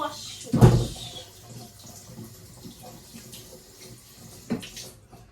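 Raw oxtail washed in water for a Jamaican-style dish: a loud splash and slosh near the start, quieter trickling and handling in between, then another splash near the end, with no talking.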